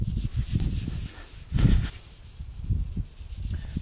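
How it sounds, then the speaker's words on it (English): Chrome polish being rubbed onto a chrome surface by hand in circular overlapping motions, giving a soft, close rhythmic rubbing and swishing with a louder stroke midway. "start polishing in circular overlapping motions"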